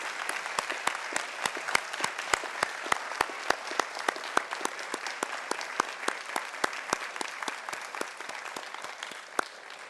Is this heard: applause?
yes